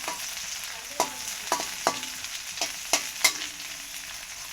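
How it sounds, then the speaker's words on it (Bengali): Onions frying lightly in a pan for a river fish dish, with a soft steady sizzle and a series of sharp stirring clicks and scrapes spaced through the clip, close and fairly quiet. "এখন পেঁয়াজটা হালকা ভাজা হয়ে গেছে"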